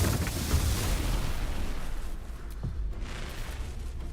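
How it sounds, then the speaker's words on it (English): Explosions in the Baldur's Gate 3 video game, a heavy rumbling boom spreading into a broad roar that slowly fades, followed by a softer second burst, with no talking. "Explosions!"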